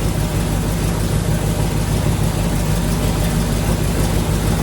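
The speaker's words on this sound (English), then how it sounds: "I'm gonna let her run for a while" A 1972 Corvette with a 454 engine running steadily at a deep, loud idle, with a continuous low rumble and no voices.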